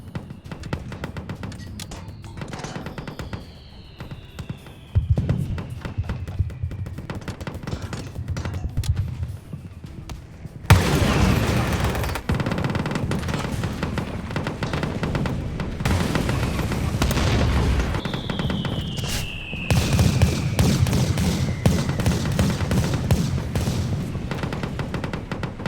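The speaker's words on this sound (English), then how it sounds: "Here comes that rocket artillery." Rocket artillery and gunfire in the Total Tank Simulator video game: repeated booming blasts and rapid shots, with whistling rocket streaks, loud and continuous throughout.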